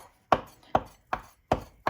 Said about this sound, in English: I'm just going to give my parsley here just a rough chop.